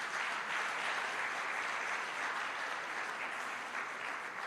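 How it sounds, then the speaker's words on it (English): An audience at the official launch of the Jamaica Legal Information Portal applauds steadily throughout, a dense even wash of clapping at moderate, consistent loudness with no speech over it. "You can give them a round of applause."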